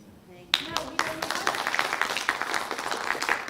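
Clapping from attendees at a school board special voting meeting, a burst of scattered handclaps that starts abruptly and continues steadily at moderate distance, with talk faintly underneath.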